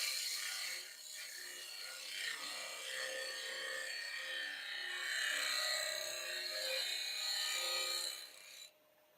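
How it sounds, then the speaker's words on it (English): A gouge cuts a small piece of bur oak on a wood lathe, giving a continuous hissy scraping rasp that swells and eases. It stays moderately quiet throughout and ends with a quick drop near the close. "This is a chance to try left hand gouge work."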